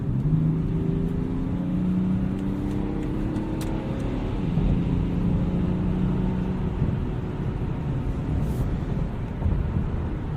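A BMW X5 xDrive 35d diesel held at high revs while driving on snowy roads, a steady loud drone of engine and road noise with slowly shifting pitch throughout.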